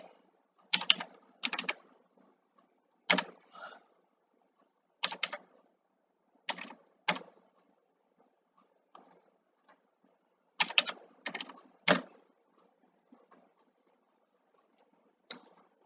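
Bursts of typing on a computer keyboard as a password is entered, quick clusters of crisp key clicks separated by short pauses, close and clear with no talking.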